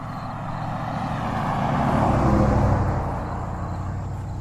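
A car passes along a road beside the Gettysburg battlefield, a broad engine and tyre rumble swelling to a peak midway and then fading away, with no talk over it.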